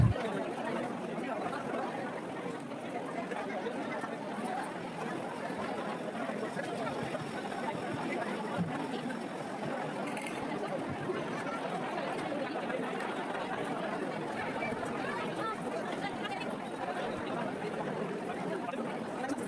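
A large crowd at a Hindu temple chatters all around, a steady dense murmur of many voices held at an even level from start to finish with no single speaker standing out.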